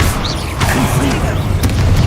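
A Confringo blast spell from Hogwarts Legacy bursts with a boomy pop, set amid a busy run of other spell effects and background game noise, with no clear voice over it.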